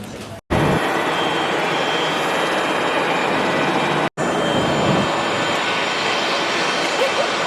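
A passenger jet taxis after landing in Dublin, and its engines give a loud, steady roar inside the cabin. The roar cuts out briefly twice, then carries on unbroken.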